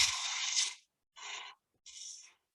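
Three bursts of harsh, hissing scraping, a long one then two shorter, as a chisel roughs down spinning wood on a lathe while turning a toothpick holder, fairly faint.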